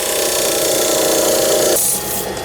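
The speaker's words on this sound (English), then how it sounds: "I'm just sanding from underneath" Sandpaper rubs underneath a Mahonia wood ring box spinning on a lathe, a steady loud hiss with a motor hum that drops off near the end.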